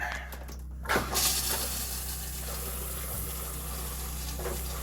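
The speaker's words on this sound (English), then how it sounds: "we're going to flush the toilet" Toilet flushing in a fifth-wheel RV during winterizing, a brief gush of water followed by steady running and filling under a constant pump-like hum, close and moderately quiet.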